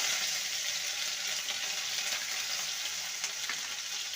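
Ginger and green chilli paste hits hot oil with tempered bay leaf for a vegetarian kohlrabi curry, giving a loud, continuous hissing sizzle that holds steady throughout with no voices.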